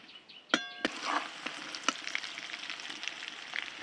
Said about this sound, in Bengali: হলুদ আর লবণ দিয়ে আলু আর ফুলকপি একসঙ্গে ভালো করে ভেজে নিচ্ছি।